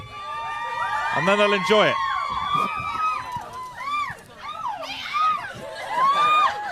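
An interview audience whoops and cheers loudly, with high rising and falling calls overlapping in waves, while a voice talks over the crowd.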